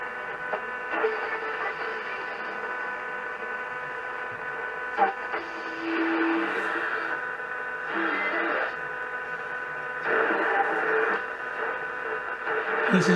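A Realistic DX-160 receiver tuned across the shortwave band in daytime gives off steady static hiss and hum, with faint tones and swells as the tuning shifts, no clear station coming through.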